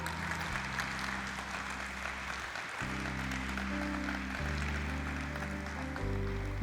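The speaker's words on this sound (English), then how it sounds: "Can we please have a huge round of applause and let this not stop?" Applause at a stock exchange ceremony marking a company's 30-year listing, continuous crowd clapping carrying on under loud sustained event music with shifting chords.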